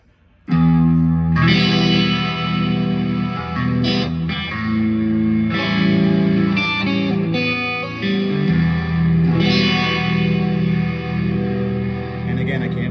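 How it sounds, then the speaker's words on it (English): Electric guitar run through a Univibe effect followed by a distortion pedal, played as a sustained, heavily processed chordal passage with swirling modulation, loud and continuous for most of the clip with no talking over it. "So if I put that distortion on after the Univibe, I get more of a"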